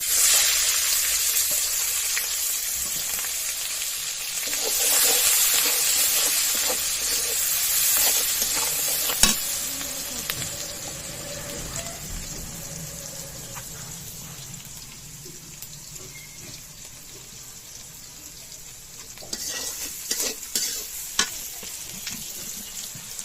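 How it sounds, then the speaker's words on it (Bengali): Chopped onion and green chili sizzle steadily in hot oil, a dense crackling hiss that runs throughout with occasional stirring clatter and louder pops toward the end. "দিয়ে দিব আর একটু তেল, দিয়ে দিব পেঁয়াজ কুচি, কাঁচামরিচ,"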